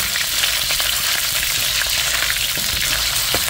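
Pork fat and oil sizzle steadily in a hot pan, a continuous close frying hiss with faint crackles and no voices.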